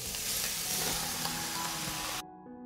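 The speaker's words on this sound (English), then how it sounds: "I will stir and fry everything together for 15 minutes." Meat sizzles with onions and carrots in hot olive oil, a dense, loud, steady frying hiss that cuts off abruptly near the end, leaving a faint hum.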